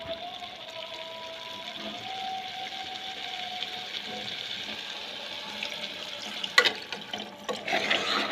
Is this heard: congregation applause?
no